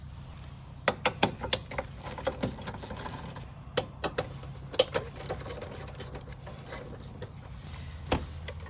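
A ratchet and socket work two 10mm bolts loose on the lower intake box of a 2018-2022 Honda Accord 2.0T, giving close, irregular metallic clicks and clinks with small rattles between them, and no talking.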